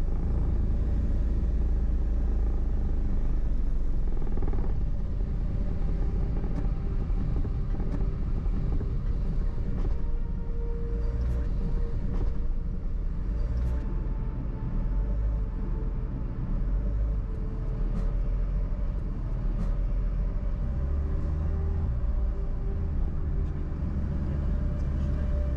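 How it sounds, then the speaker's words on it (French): Cars move up a narrow sloping ramp onto the open deck of a ferry, a continuous low rumble of engines and hull mixed with wind buffeting the microphone, steady and fairly loud throughout. "Entre ces camions, on lance les voitures sur une étroite passerelle penchée jusqu'à la partie ouverte du pont 5."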